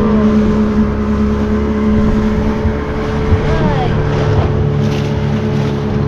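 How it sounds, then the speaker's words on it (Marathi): Motorboat engine droning steadily throughout while the boat moves across the sea near a jetty, with wind buffeting the microphone and water rushing beneath; a constant, close, loud hum with no clear speech. "हे बघा ही बोट कशी साईड साईडला तिथे लांबून दिसतंय का माहित नाही"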